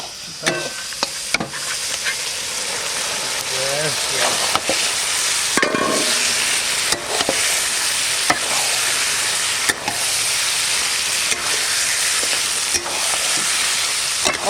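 Goat meat fries in a tomato-based spice masala, cooked outdoors in the Chowpahari forest. A loud continuous sizzle runs throughout, broken by repeated scraping stirs and clanks of a utensil against the pan.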